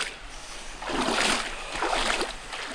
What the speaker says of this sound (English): We've got a very baby waterfall here.